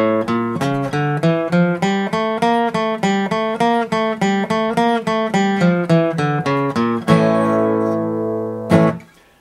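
A clean guitar picks single notes in a quick, steady pattern that steps through a scale, ending on a ringing note and one last pluck.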